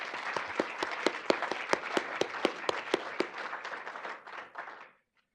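An audience at a university entrepreneurship demo day gives presenters a warm round of applause, with dense, steady clapping and a few sharp individual claps that fade out near the end.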